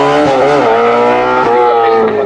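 Renault R8 Gordini race car at a hill climb in Wolfsfeld, its engine screaming loud and close with rising and falling revs through gear changes, a harsh buzzing high-pitched note throughout.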